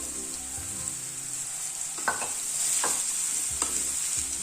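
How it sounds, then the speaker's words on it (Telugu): Chopped ridge gourd frying in a pan with ginger-garlic paste and curry leaves, a steady close sizzle broken by a few scraping stirs of a spoon against the pan. "కట్ చేసుకున్న బీరకాయలు వేసుకోవాలండి."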